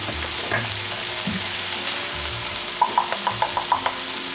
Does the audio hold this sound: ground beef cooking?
yes